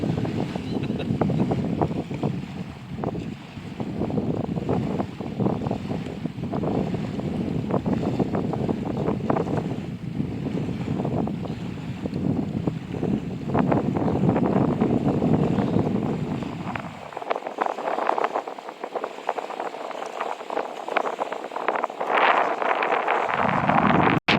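Strong wind gusting over a choppy lake, a loud, continuous roar with rumbling buffeting across the microphone that briefly eases near the end.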